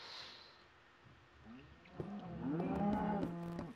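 Cows mooing in a video game set in a stony surface area, with a low, drawn-out moo swelling in the second half after a quieter stretch of ambient noise.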